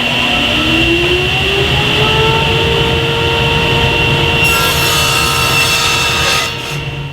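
A table saw rips a strip of wood using a GRR-RIPPER push block: a loud, steady whine and grinding cut that brightens near the end, then the blade spins down.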